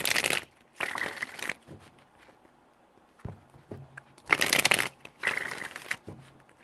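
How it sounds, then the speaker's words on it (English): Tarot cards are shuffled by hand in a few quick bursts of crisp riffling, separated by quiet pauses with faint tapping and handling sounds, close and fairly soft. "3 more shuffles."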